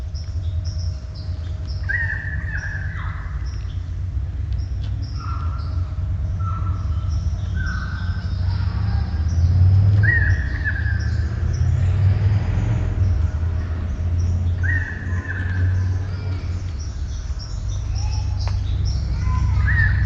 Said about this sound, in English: Did you hear plenty of birds?